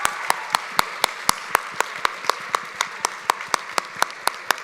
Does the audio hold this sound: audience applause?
yes